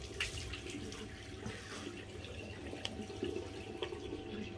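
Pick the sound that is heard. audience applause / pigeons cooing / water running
water running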